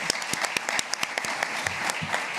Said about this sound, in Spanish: Yo quiero darle un aplauso a ellos ya